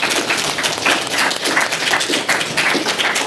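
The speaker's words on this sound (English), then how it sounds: "Let's give both these candidates a big round of applause." Audience applause at a Ward 4 candidates coffee event, a dense, steady wash of many hands clapping together at close range, sustained throughout with no talking over it.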